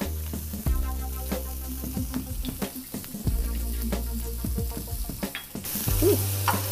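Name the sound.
onions sizzling in frying pan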